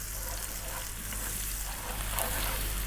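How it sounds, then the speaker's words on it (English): Finely chopped onions frying in a pan over slightly above medium heat, a continuous even sizzle close by with no talking. "We're going to start by dropping in a cup of finely chopped onions."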